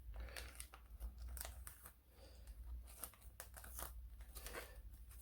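Plastic blister packaging for a Ram Mount 1-inch ball to GoPro-style adapter being cut open, giving close crinkling and snipping crackles in irregular bursts over a steady low hum.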